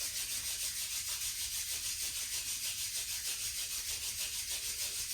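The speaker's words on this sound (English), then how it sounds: "you just rub the hands." Palms rubbed briskly together during a gentle exercise routine, a steady continuous hissing friction close up, uniform in loudness, with no voices.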